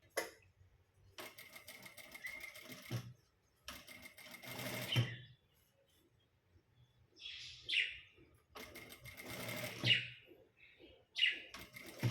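A sewing machine stitching a shoulder seam whirs in short and medium bursts with quiet gaps, close by, while bird chirps are heard briefly in the background between runs.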